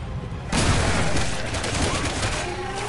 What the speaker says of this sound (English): I see the shotgun is very effective against her.